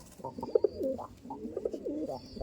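A Madrasi pigeon coos close by, two rounds of throaty, rolling warbles with short gaps, clear over faint background noise.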